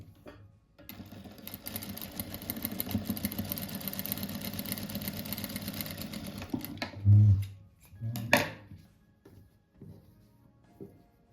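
A sewing machine stitches patchwork fabric squares together for a colorful rug, running in a steady continuous mechanical whir for several seconds before stopping, followed by a few brief handling thumps.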